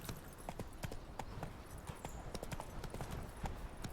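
Horse hooves clip-clopping in The Witcher 3 video game, a steady quick rhythm of hoof strikes on a city street, fairly quiet, with no speech.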